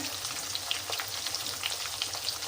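Cumin seeds sizzling in hot oil for capsicum lemon rice, a dense, close crackle of fine pops and steady hiss with no talk.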